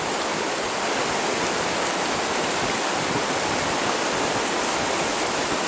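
A Vermont river running high and swollen with spring snow melt, a steady, dense rushing roar of water that is constant and close throughout, with no voices.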